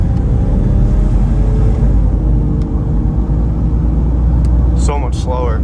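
A Jeep on a 3-inch lift and 35-inch tires, checked for death wobble, drives with a loud, steady engine and road rumble heard from inside, and a voice speaks briefly near the end.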